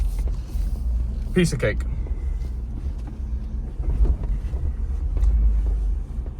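A Jeep Wrangler 392 Rubicon crawls over tree logs on an off-road test track, giving a low, steady engine rumble with wind buffeting the microphone and a brief mid-clip clunk. Someone speaks briefly over it.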